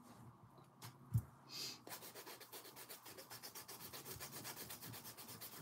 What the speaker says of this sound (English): Filing the outer third of the nail.